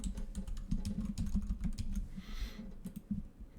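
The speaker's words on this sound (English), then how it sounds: "Type in the password" Keys clacking in a rapid, uneven run of typing as a password goes into a computer keyboard, close and steady, with a low hum underneath.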